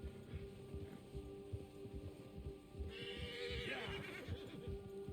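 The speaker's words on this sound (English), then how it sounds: "Bear has spooked your horse. When a predator is nearby, your horse gets agitated." A horse in Red Dead Redemption 2, spooked by a nearby bear, snorts and stamps with low rhythmic breathing, then lets out a sharp, shrill neigh near the end, fairly quiet and close.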